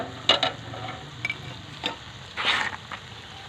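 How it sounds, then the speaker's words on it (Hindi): Ingredients sautéed in a pan for village-style matar pulao, with soft stirring scrapes and faint sizzling, a few louder clinks and scrapes scattered through, and no voices. "इसे थोड़ा सा भून लेंगे।"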